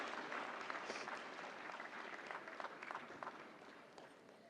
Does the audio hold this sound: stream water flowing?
no